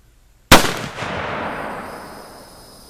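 A Thompson Center Scout black powder pistol, loaded with 50 grains of Alliant Black MZ and fired with a number 11 cap, lets off a single loud, close shot followed by a long rolling echo that fades slowly.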